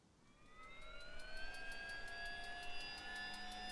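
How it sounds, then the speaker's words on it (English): In the DayZ video game, a helicopter engine starts up with a turbine whine that climbs steadily in pitch as rotor pulses quicken, rising from quiet to a moderate, even level with no talk over it. "There starts the engine up."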